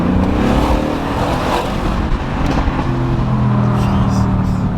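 A Mercedes-AMG car runs with a loud, aggressive exhaust, its deep rumble and throaty roar close and continuous, swelling slightly toward the end, with people talking nearby.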